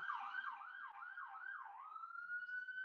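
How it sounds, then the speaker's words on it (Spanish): Ambulance siren wailing in a rapid rising-and-falling pattern, then holding a steady tone, heard from outside at moderate volume with no talk over it. "Pasó la ambulancia."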